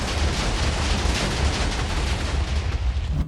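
Explosion clearing a preset island in the Minecraft SkyBlock video game, a loud, sustained rumbling blast with crackling debris that fills the whole stretch and fades out at the end.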